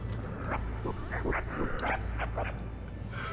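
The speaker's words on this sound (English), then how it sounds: "three different dogs making noises? Obviously it's three-headed." Growling, yelping barks from a three-headed dog monster in the game Zeus: Master of Olympus, several overlapping calls repeating in bursts over a steady droning game soundtrack.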